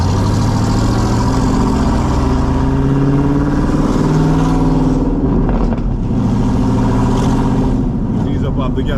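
An older classic car engine in Jamaica revs loud and close, holding a steady throbbing drone with rising and falling pitch as it accelerates, with brief dips when the driver eases off the throttle between gear changes.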